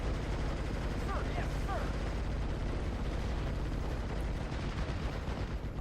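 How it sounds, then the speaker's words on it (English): Machine gun fire and battle noise from the World War II strategy game Steel Division Normandy 44, a dense, constant roar of distant gunfire and explosions running without pause under faint voices. "that machine gun is annoying me like crazy"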